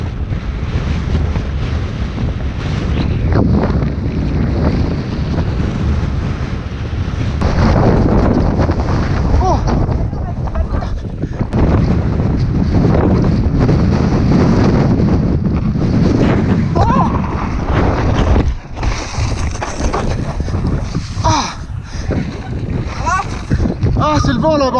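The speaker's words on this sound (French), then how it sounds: "Y'a un petit vent mon gars." Strong wind on a snowy downhill mountain-bike park at Les 2 Alpes buffets loudly and continuously, roaring across the microphone, with voices speaking now and then beneath the gusts.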